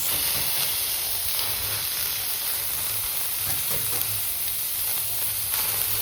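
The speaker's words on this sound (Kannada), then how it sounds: "ಜಸ್ಟ್ ಇವಾಗ ಒಗ್ಗರಣೆ ಹಾಕೋದು ಅಷ್ಟೇ ಐತಿ." Spice tempering sizzles in hot oil for a cabbage palya, a steady close hiss that holds without a break and has no voices over it.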